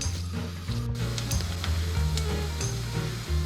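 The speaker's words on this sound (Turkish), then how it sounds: "Yağımızı tenceremize alıyoruz. Üzerine kuru soğanlarımızı döküp hafif pembeleşinceye kadar kavuruyoruz." Dry onions frying in oil in a soup pot for creamy potato soup, a continuous close sizzle with small crackles and a low steady hum throughout.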